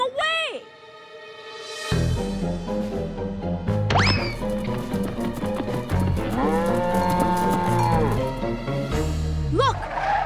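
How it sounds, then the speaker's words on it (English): A cartoon cow moos several times amid bouncy cartoon music and sound effects, with voices chattering over it. "our cow's getting away."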